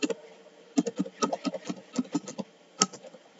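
Keys tapped on a computer keyboard while entering a spreadsheet formula, an irregular run of close, light clicks in short bursts with brief pauses, no talking.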